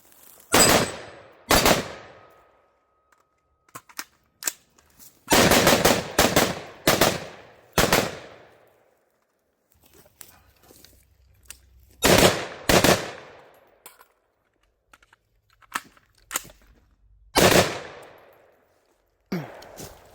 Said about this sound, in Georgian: ეხლა ვისვრით წეგანა დავაყენეთ EOTech-ის რეპლიკა.